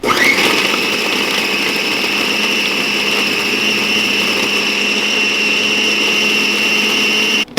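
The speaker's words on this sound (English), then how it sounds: "you put the meat in the food processor" A food processor grinds steak trimmings with a loud, steady motor whine that holds constant for about seven seconds and then cuts off abruptly.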